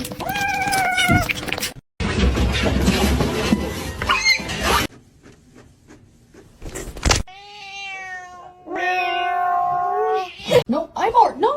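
A house cat meows in several clear, rising calls spread across the clip, alternating with rustling noise and quiet stretches; people talk in between the meows.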